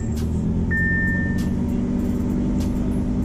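A 2017 Audi R8 V10 Plus in performance mode, its engine running as a loud, steady low rumble close by, with no talk over it.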